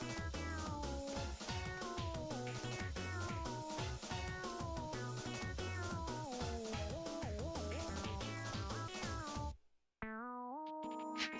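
Repeated cat meows are chopped into a bouncy techno beat, the pitched mews stepping up and down before a brief pause and a final sparse phrase.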